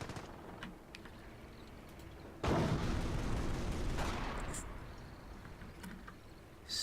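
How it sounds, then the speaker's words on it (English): A land mine blows up in a video game match: a sudden broad blast that rolls on for a couple of seconds, then fades, with faint crackles of gunfire around it. "They do hit a mine."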